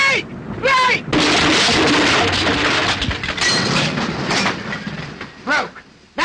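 A runaway train in a 1937 comedy film brakes and crashes with loud roaring, clattering and banging, with shouting voices and squealing tones mixed in throughout.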